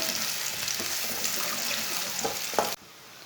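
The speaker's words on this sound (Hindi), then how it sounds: "प्याज डालेंगे। प्याज को हल्का सा ब्राउन कर लेंगे।" Finely chopped onions fry in a pan for an arbi curry, giving a steady broadband sizzle with a few soft stirring knocks before cutting off abruptly near the end.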